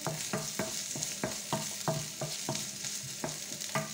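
Spiced round courgette filling stirred in a pan, a spoon scraping the base in steady, evenly spaced strokes about every third of a second over a constant soft sizzle, close and moderately loud with no voices.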